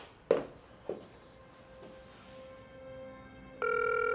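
A telephone handset gives two sharp clicks, then a steady electronic tone, and ends with a louder, sustained multi-tone signal on the line, all without anyone talking.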